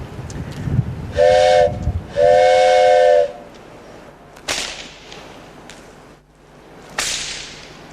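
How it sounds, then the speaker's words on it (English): Two sharp, shrill blasts from a homemade steam train whistle sound close together, each held about a second, followed by a couple of loud cracking snaps in a quieter background. "measured the dimensions of the steam whistle, and cut 4 holes the size and the shape of the whistle"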